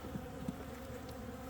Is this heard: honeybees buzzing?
yes